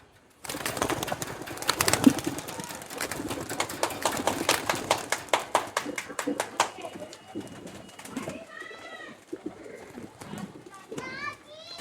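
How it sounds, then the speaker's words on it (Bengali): A small flock of seven or eight Kamagar, Oman and Saki teddy pigeons in Kolkata being released to fly, their wings beating in a dense rapid clatter that fades into scattered flutters, with people talking nearby. "এই পায়রাগুলো আপাতত এখন দাদা উড়াবেন।"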